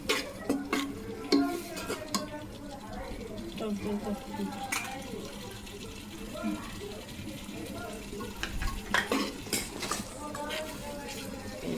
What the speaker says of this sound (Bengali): দেখি মশলাটা আর একটু কষিয়ে আসুক